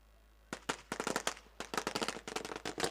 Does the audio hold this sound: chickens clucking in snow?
no